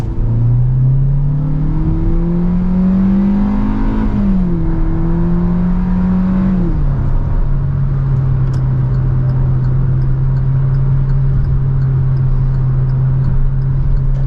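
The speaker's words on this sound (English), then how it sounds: "I really like this IVT transmission. I think Hyundai did a great job with it. Let's go ahead and do another acceleration right here." A 2022 Hyundai Venue with an IVT transmission accelerating, its engine drone rising in pitch, dipping briefly, then holding a loud steady tone from inside the cabin.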